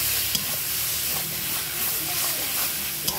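A spice paste of tomato, chili, garlic and onion fries in a pan with a continuous loud hissing sizzle and occasional stirring clicks, close up and alone.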